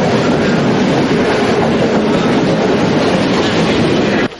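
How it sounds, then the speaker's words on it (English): A train on rails pulling into Paralia station in Sri Lanka, a loud, steady close rumble with rhythmic clickety-clack of wheels over the track, cutting off abruptly at the end. "The train to Paralia today reached the Paralia station at the exact time that the ill-fated train was due to reach"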